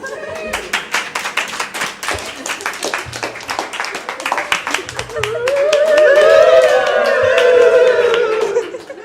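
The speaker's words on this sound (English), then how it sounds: "Round of applause, please." Rhythmic clapping from a group, steady and close, with voices whooping and cheering over the claps toward the end.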